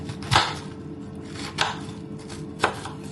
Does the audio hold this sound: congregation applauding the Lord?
no